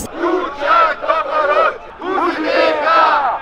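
A crowd at a rally chanting and shouting together in loud, rhythmic bursts, voices merging into sustained cheering close by.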